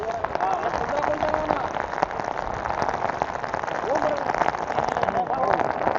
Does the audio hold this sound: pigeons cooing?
no